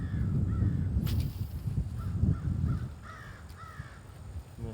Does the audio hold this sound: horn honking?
no